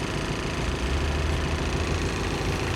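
A Mitsubishi MT245 mini tractor's diesel engine runs steadily and close, a continuous low rumbling drone with a faint knocking pulse, loud and unbroken with no talk.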